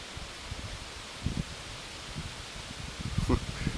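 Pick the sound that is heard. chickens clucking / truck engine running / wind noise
wind noise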